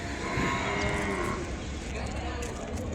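Ongole cattle at a cattle market give a drawn-out moo close by over a busy background of crowd murmur and voices.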